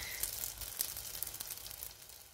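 Sfenj doughnuts fry in hot oil in a pan, a steady close sizzle with scattered crackling pops throughout, no voices.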